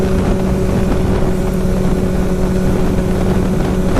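A Ducati 1199 Panigale S motorcycle being ridden, its engine a steady loud drone with strong wind rush over the microphone throughout, continuous without pauses.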